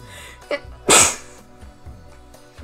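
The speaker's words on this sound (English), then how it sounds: "Sometimes you can feel when you're gonna sneeze" A single sharp human sneeze bursts out close and loud, preceded by a short catch of breath, in a quiet indoor room with a puppy present and faint background murmur afterward.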